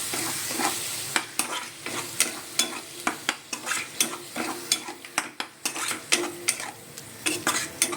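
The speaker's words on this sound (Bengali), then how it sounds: "দিয়ে এবার ভালো করে আবারও আমি নাড়বো দইটাকে" Yogurt is stirred into frying spices in a wok, with a rapid, uneven series of utensil scrapes and clinks against the pan over a continuous soft sizzle, close and alone.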